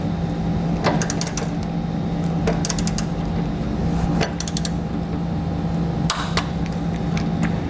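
Wrench work on the hardware of a Demco tabless base plate being fitted to a 2014 Honda CR-V: scattered metallic clicks and ratcheting taps over a constant low mechanical hum, close by.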